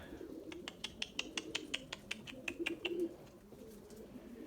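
Erzurum white pigeons coo softly in a loft, a series of low, rhythmic coos with faint sharp ticks above them, moderately near and otherwise quiet.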